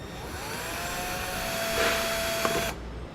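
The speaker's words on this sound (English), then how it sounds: "You just want to let that bit work through that aluminum" A drill bit bores out a rivet through aluminum while a Demco tabless base plate kit is fitted to a 2018 Jeep Cherokee. A steady, close whirring grind with a thin whine runs for a few seconds, then cuts off abruptly.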